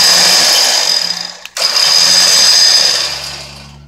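A winch motor worked by a cheap wireless remote, whirring loud and steady, cutting out for a brief moment, then running on and slowly fading.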